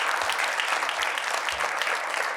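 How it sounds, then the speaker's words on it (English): An audience at an annual spelling bee claps warmly, a dense steady patter of applause from a sizable room that continues evenly throughout without voices. "Give her a nice round of applause."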